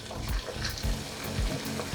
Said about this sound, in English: So we're going to add it into the frying onion